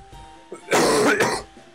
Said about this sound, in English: I'm coughing from talking so much